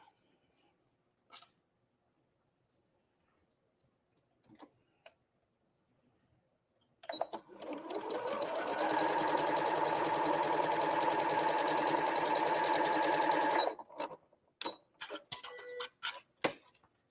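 A sewing machine stitches a diagonal line across a quilt in one steady, continuous whirring run of about seven seconds, framed by quiet clicks and handling noises before and after.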